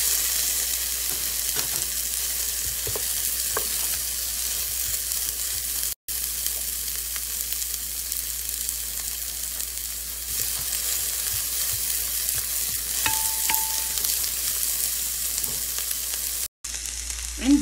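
Onions for beef stroganoff fry in a pan with a continuous, even, close sizzle that holds steady throughout, with a few brief gaps and faint clicks.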